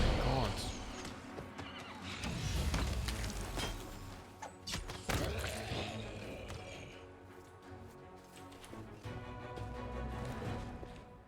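A video game horse whinnies loudly amid galloping clip-clop hooves, thuds and game effects, with people talking over the action throughout.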